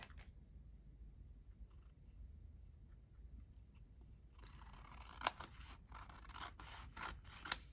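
Scissors cut through sheets of copy paper up close, giving a soft rasping slide followed by several crisp, sharp snips in quick succession in a quiet room.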